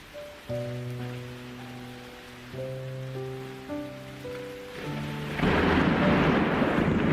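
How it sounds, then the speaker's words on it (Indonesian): Rain tapping on a window with thunder, first faint under soft sustained musical tones, then swelling into a heavy steady wash of rain with a low rumble near the end. "Lalu datanglah hujan. Pelan-pelan, mengetuk jendela, menghapus debu."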